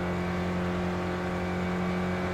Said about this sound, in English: the engine is revving high